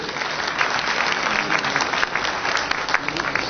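Seminar audience in Karachi applauding, a dense, steady wash of many hands clapping at an even level throughout, with no clear voices.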